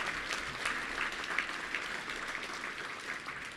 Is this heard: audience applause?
yes